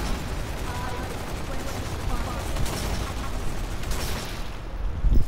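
Dense, continuous gunfire in the zombie shooter Zombie Army 4, overlapping shots forming a thick, busy roar of battle, with a player talking over it.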